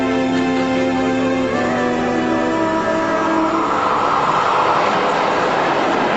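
An Indian railway train runs along the tracks with a loud continuous rumble and roar, tonal whines fading early on, close and without speech.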